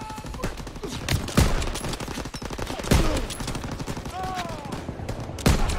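Rapid gunfire and bursts of automatic weapon fire in the World War II shooter Call of Duty: WWII, with sharp loud shots at irregular intervals over constant battlefield din.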